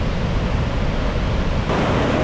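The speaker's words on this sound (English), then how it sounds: "There's the water coming down, and we're on the bridge." Vernal Falls in Yosemite roars as a steady, loud, unbroken wash of falling water heard up close from a bridge on the trail, dense and constant throughout with no voices.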